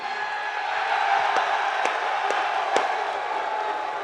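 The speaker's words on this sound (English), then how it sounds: "This is the loudest crowd that I have heard in recent memory" Large crowd of fans at a UFC Q&A event roaring and cheering in a loud, sustained wall of voices, with a few sharp shouts and claps cutting through.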